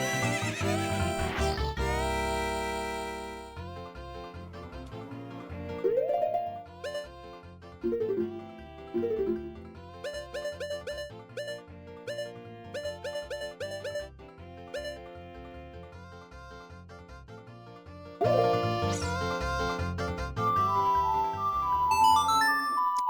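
Horse neighs and whinnies in The Legend of Zelda: Ocarina of Time, heard as clear, loud calls between stretches of game music, with no talking.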